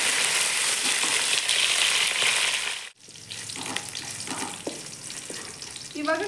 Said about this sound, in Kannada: ಹಾಗೆಯೇ ಸ್ವಲ್ಪ ಬ್ರೌನ್ ಆಗೋ ತನಕ ಫ್ರೈ ಮಾಡ್ಕೋಬೇಕು.